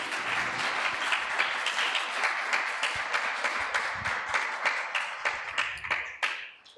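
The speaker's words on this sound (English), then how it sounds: "So let's have another round of applause for Vrindavan Prabhu." An audience at a temple applauds after a talk, a full round of clapping that gradually thins into a few separate claps before fading out.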